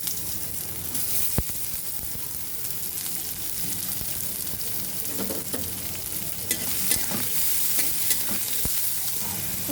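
Chopped onion fries in a spoonful of white oil with cardamom pods and cinnamon pieces, a steady broadband sizzle broken by scattered clicks and scrapes of stirring, close and moderately loud without speech.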